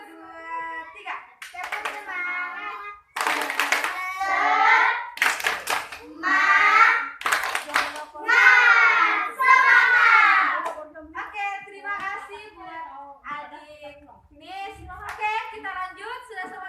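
Schoolchildren in a classroom doing a rhythmic spirit clap, bursts of sharp group claps in patterned sequences alternating with children's chanting voices, loud and close.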